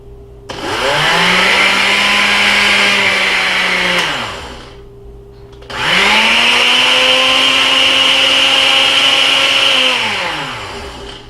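A loud blender grinding tooth powder whirs in two long bursts, each spinning up, grinding steadily for several seconds, then winding down, with a short pause between them.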